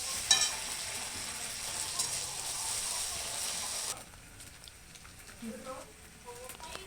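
Onion and ginger-garlic paste frying in a pan, a loud steady sizzle that drops abruptly partway through to a quieter crackle with scraping and stirring noises.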